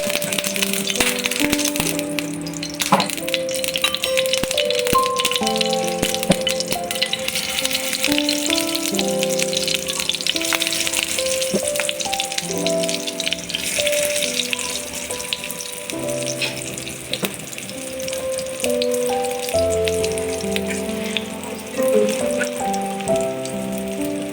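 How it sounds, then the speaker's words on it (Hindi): Shami kababs fry in oil in a pan with a continuous hissing, crackling sizzle that sits under loud background music throughout. "अब हम यहाँ पर अपने पास कबाब जो है वो फ्राई करेंगे"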